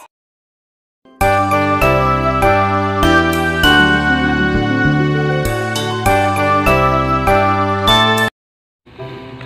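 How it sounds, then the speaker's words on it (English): A loud, bright chime of bell-like tones plays a quick melody for about seven seconds, cuts off, then starts again faintly. "bells."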